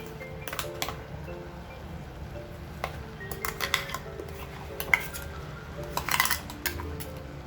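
Ground coconut paste being added to a pot of drumstick and prawn curry, with scattered metallic clinks and taps of a spoon against the pot over a low hum.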